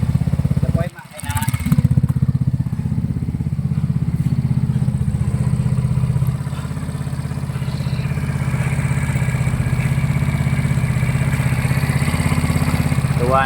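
A 200cc automatic mini jeep engine runs steadily at idle, a close, continuous low rumbling drone with a brief dip near the start, then holding even throughout.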